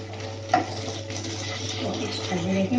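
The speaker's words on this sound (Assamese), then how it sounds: "এপিচ ভাজি ৰাখিম" Steady sizzling of fish frying in a pan, with a few soft clinks and stirring scrapes over continuous background hum.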